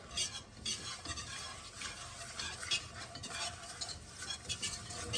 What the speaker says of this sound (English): I'm going to give this a little mix first